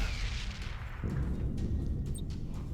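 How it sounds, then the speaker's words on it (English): Spaceship cannon firing in the space strategy game Battlefleet Gothic Armada 2, a dense rumbling blast that swells into a sustained low roar, loud and continuous with no speech. "And then we'll launch the cannon"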